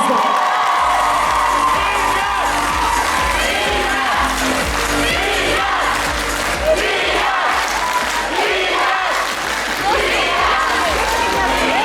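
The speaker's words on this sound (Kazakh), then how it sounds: "шет тілдер факультетіне деген құрмет қошемет болсын баршамызға" Audience at a gala concert cheers, shouts and whoops for the foreign languages faculty, a loud, sustained crowd roar with scattered applause running throughout.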